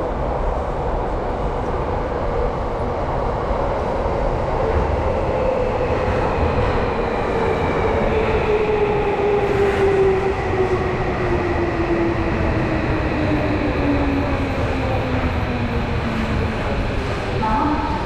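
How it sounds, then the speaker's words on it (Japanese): A Tokyo Metro Chiyoda Line subway train pulls into the underground Akasaka Station platform with a loud, steady rumble and a long whine that slides downward as it brakes. "The local train bound for 北綾瀬 is arriving at track 2."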